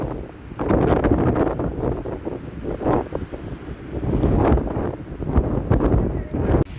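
Strong, gusty wind and rain roar and buffet the microphone in uneven surges at a hilltop viewpoint near Surinsar, Jammu, loud and close throughout.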